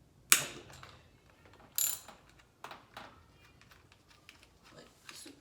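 Ratchet wrench clicking while loosening a tight car spark plug, a few sharp ratcheting bursts spaced over several seconds, close and fairly loud with quiet gaps between.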